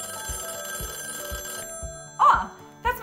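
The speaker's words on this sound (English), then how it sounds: "Oh, that's my phone ringing," A telephone rings with a repeating electronic bell pattern, playing steadily and fairly loudly before breaking off into brief louder sounds at the end.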